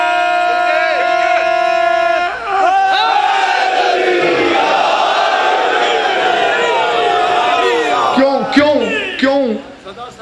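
A large gathering at a Shia majlis shouts a religious slogan in unison, with sustained call-and-response voices and a sung or drawn-out lead voice, loud and close with bursts of chanting near the end.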